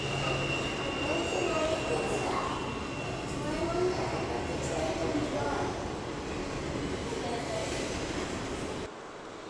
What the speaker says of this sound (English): Yep, got some Amtrak out there.